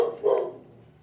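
A dog named Bella gives a single short bark, fairly faint and slightly distant, in an otherwise quiet room.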